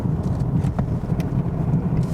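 A 2017 Mazda CX-3 crossover drives along a rural road, giving a steady, moderately loud engine and road-noise rumble throughout with no break.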